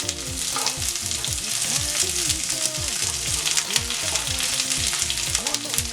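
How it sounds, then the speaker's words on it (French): Onions sautéing in oil for a tilapia sauce, loud, close, continuous sizzling and crackling with a spoon stirring and scraping the pan, no voices. "Donc déjà, on va faire revenir les oignons."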